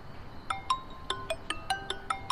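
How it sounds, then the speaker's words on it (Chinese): Mobile phone ringtone of an incoming call: a faint, repeating sequence of bright electronic beeps in a steady rhythm, heard over low room background. "你看妈妈电话来了"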